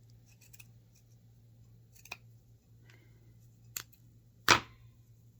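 Scissors trim old lace with a few separate crisp snips spread over several seconds, the last one loudest, against a quiet room with a low steady hum.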